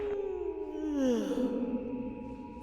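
A character in Life is Strange: Double Exposure lets out a long yawn, a drawn-out voiced tone sliding downward and trailing into a breathy exhale, close and alone.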